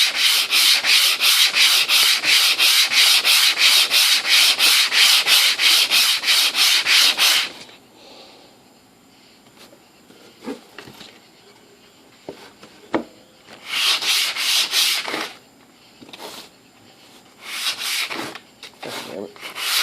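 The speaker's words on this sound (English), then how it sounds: "now you don't want to sand too much and go past that first coat all the way" Sandpaper rubs over the first coat of stain on a wooden clock in steady, rapid back-and-forth strokes, loud and close for several seconds, then stopping, with shorter bursts of sanding returning later.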